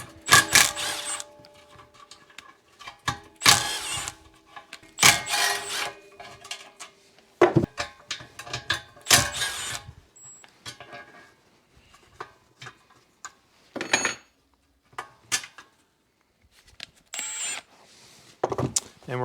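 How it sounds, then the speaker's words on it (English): Wrench and socket work on the nuts and bolts ringing the outside of a diesel particulate filter: intermittent metallic ratcheting, clinks and scraping in irregular bursts with quiet gaps, close and fairly loud. "we're going to need to remove all these nuts and bolts around the outside of this"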